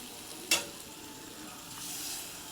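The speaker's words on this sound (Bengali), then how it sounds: "এরপর আমি এতে কিছুটা জল দিয়ে দেবো" Spiced soybean and potato curry sizzling in a pan as water goes in, a sharp splash followed by a soft, steady hiss that swells briefly near the end.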